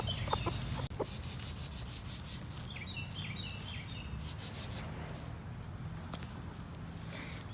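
Roosters and hens clucking on a farm, scattered short calls over a steady outdoor background with a few footsteps, no talking.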